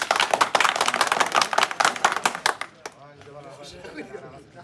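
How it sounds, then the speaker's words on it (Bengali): A small crowd claps quickly and densely for players at a ball-and-bottle knee-kick challenge; the applause lasts just under three seconds, then stops abruptly and gives way to voices talking. "সকলে এদের জন্য একটা করতালি।"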